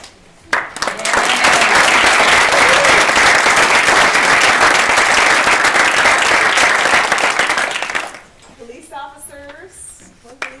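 Audience at a school awards ceremony applauding teachers and administrators, a loud sustained round of clapping that swells quickly and fades after several seconds, followed by a voice speaking.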